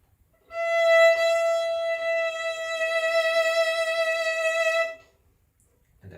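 Violin note bowed with vibrato aimed at the flatter side of the pitch, one sustained tone of about four seconds, clear and close, with a steady rich harmonic sound.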